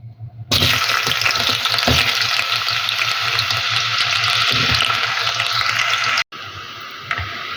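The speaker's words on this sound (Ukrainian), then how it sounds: "сюди зараз в цю олію викладаю підсмажитися до золотистого цибулю" Steady loud sizzling and crackling of onion frying in hot oil, with a brief break near the end before the sizzle resumes.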